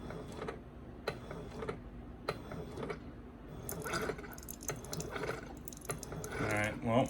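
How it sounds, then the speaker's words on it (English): Slow, irregular drips and soft ticks from a Keurig coffee maker brewing coffee, with a low hum underneath and a brief gurgle near the end. "You can see it just kind of slowly drips it out."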